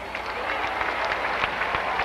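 At a 1993 UAAP season 56 finals basketball game, UST vs ADU, the crowd applauds EJ File with a steady, broad clapping spread across the arena, with crowd noise and a faint low hum underneath.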